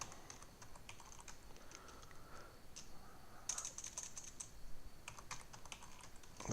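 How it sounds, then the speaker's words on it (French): Keys tapped on a computer keyboard, a quiet, close series of quick uneven clicks in short bursts against a faint background hiss, with no talking. "Je vais saisir importation."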